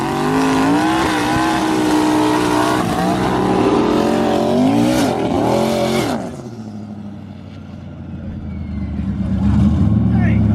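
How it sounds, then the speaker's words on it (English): A manual Corvette and an automatic car launch side by side at a drag strip, engines screaming loudly through rising gear changes before fading away, then another engine rumbles and revs nearby with a crowd and voices in the background. "we got the two fastest cars out here. They're gonna run again"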